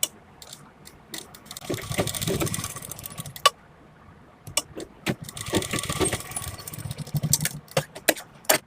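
Sewing machine stitching a small square of fabric for a blouse button: two bursts of fast, rattling mechanical stitching, each a couple of seconds long, separated by sharp clicks and short pauses.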